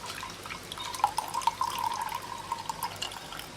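Ginger water poured into a container, a close trickling, splashing stream with small drips that runs for a few seconds and then tapers off.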